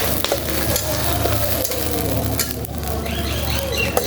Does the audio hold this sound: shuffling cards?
no